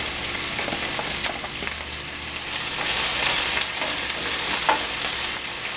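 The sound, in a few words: seasoning vegetables stirred and sizzling in pan, Jamaican fish recipe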